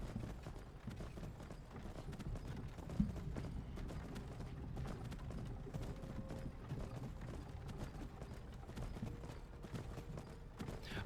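Horse hooves clip-clop at a steady walking rhythm in the Skyrim video game, faint and even, with low background ambience and no clear talk.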